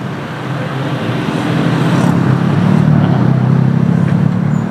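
Road traffic in Kota Baru, Jambi, near the Tugu Keris Siginjai monument, with a car passing close by. Its broad low engine rumble builds steadily and stays loud throughout, without talk.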